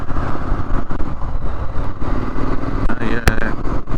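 Triumph Street Scrambler motorcycle ridden through the Scottish hills on an evening run, its engine droning steadily up close with wind buffeting and slight shifts in revs, a brief sharp knock near the end.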